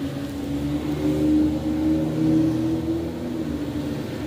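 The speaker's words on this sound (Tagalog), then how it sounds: "Patayin muna natin ang makina." A Ford Expedition engine runs at a steady idle, with a low even hum that swells slightly and holds close and fairly loud throughout, no voices over it.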